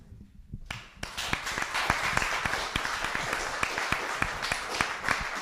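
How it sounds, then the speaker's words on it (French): Audience applause after a lecture on speaking of God, beginning with a sharp onset after a brief quiet moment, then steady dense clapping from a roomful of people, close and sustained to the end. "Je voudrais que les applaudissements que nous allons donner pour remercier Yves Noyer soient aussi notre témoignage au souvenir de Dietrich Bonhoeffer"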